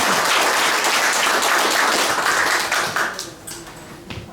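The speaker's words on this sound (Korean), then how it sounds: "잠실 모자 원장님께 박수 좀 부탁드립니다" Loud audience applause at the opening ceremony of a rhythm dance academy, a full burst of many clapping hands that thins out after three seconds into a few scattered claps.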